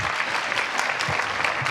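Steady applause fills a middle school honors band concert as a student's name is announced, with a crowd clapping densely and evenly through the short stretch.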